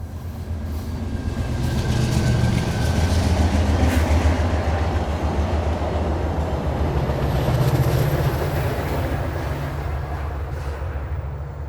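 A passenger train led by a P42 locomotive with an F40 trailing rolls past nearby, a heavy rumble with steady clickety-clack from the wheels that swells and holds, loud and without talk.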